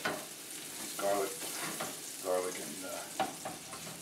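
Garlic and shallots fry in olive oil with a steady close sizzle, broken by a few bursts of stirring and scraping in the pan, no speech.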